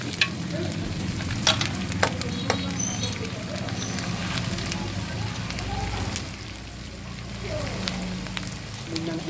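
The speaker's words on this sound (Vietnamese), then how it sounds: "Mình đang chiên tôm su." Freshwater shrimp fry in hot oil with a dense, continuous sizzle and crackle, with occasional sharp pops and a stir, as people talk nearby.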